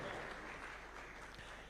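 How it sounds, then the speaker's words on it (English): Faint, steady applause from an audience honouring people at a Tax Day event at State House, a soft continuous patter of clapping heard at a distance. "we can give them a clap as they're coming"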